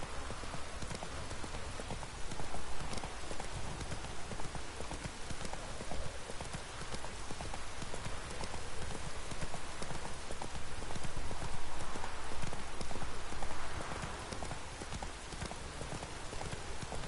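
Horse hooves clip-clop steadily through The Witcher 3 video game, a continuous rhythmic trot running the whole time over a dense bed of rain-like background noise, with no talk.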